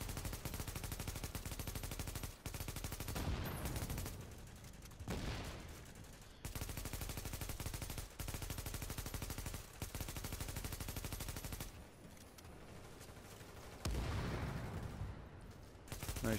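Sustained automatic gunfire from a third-person shooter, The Division, rattling loudly and continuously for most of the stretch, with brief pauses and bursts resuming, alone without talk.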